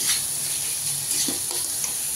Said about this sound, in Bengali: এখন আমার ওটা ভাজা ভাজা হচ্ছে